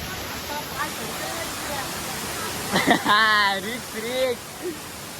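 Constant roar of falling water fills the background while someone talks over it.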